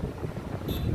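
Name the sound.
wind blowing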